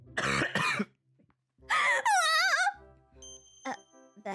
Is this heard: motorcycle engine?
no